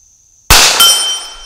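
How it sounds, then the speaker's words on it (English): A single sharp, loud shot from a Smith & Wesson 617 revolver firing tracer rounds at targets outdoors, with a metallic ring and a decaying echo after the crack. "Now I'm going to shoot these tracers."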